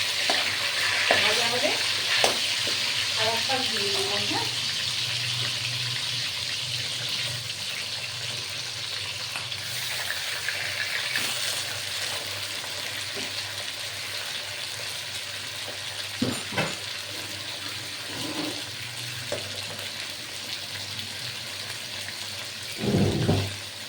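Chhyachra, a Bengali wedding-style dish, fries in a hot wok with a steady, close sizzle. Occasional scraping stirs and clanks of the spatula break through, with no talking.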